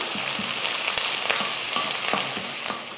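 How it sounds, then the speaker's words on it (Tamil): Onion and curry leaves sautéing in hot oil in a pan for a chicken kulambu, giving a loud, continuous close sizzle with occasional stirring taps and scrapes, no talking. "ஒரு பெரிய வெங்காயம், கொஞ்சம் கருவேப்பிலை. இது வதங்கட்டும்"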